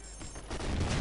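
Gunfire in the online shooter Ghost Recon Future Soldier: a dense, noisy burst of shots and rumble that grows louder partway through, with no speech.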